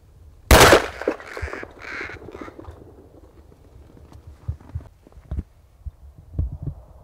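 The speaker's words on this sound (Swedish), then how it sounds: "Det var första råken." A rook caws loudly once during a crow hunt in Österlen, followed by a few softer calls and scattered low thumps and rustling nearby.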